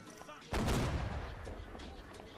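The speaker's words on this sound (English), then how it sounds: "Maybe I'm using the weak cannons." Cannon fire in the naval battle game Holdfast: Nations at War: one sudden heavy boom lands after a quiet start, then rumbles and decays under scattered distant battle noise.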